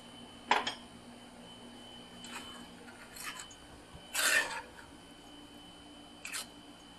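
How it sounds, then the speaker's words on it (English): Ground burger in a pan at a hunting camp, with milk, heavy cream and flour being slowly stirred in: soft, sparse scraping strokes of a utensil against the pan, faint and spaced apart over quiet background. "he's slowly stirring it in the burger"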